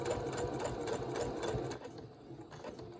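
A sewing machine stitches elastic onto a fabric N95-style mask, running in a close, steady, rapid whir with rhythmic needle clatter that eases slightly near the end.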